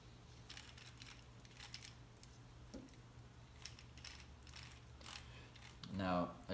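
Wooden gears on an assembled Ugears mechanical tractor model click softly as they are spun, scattered light ticks at close range ending in a brief louder rattle.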